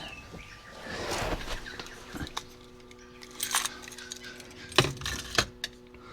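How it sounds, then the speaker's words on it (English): A small bunch of keys jangles and clinks in several quick, scattered bursts, fairly quiet and close, with brief pauses between the rattles and no voices. "The pink keys, well actually it's more purple than pink."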